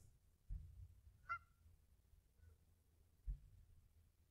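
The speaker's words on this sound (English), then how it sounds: "you see all the geese here." A couple of distant geese honk once or twice against a quiet outdoor background with low rumble.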